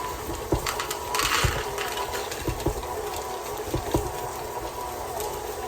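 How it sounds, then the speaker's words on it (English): A stand mixer labors through thick oatmeal chocolate chip cookie dough with a steady whirring drone and irregular heavy thumps as the beater hits chunks of semi-sweet chocolate. "That chocolate is making the mixer move."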